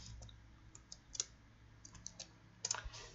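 Fingers tap a computer keyboard during a live online government review lesson, a sparse run of light, scattered key clicks at close range over quiet room tone.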